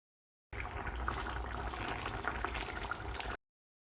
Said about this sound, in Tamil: மிதமான தீயில் ஒரு 4 நிமிஷம் கொதிக்க விடலாம்